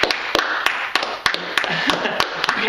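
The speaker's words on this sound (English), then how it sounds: "I want to hear the applause again." Recorded applause from a small audience played back: scattered, distinct claps and taps at an uneven rhythm over a busy background.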